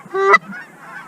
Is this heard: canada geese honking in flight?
yes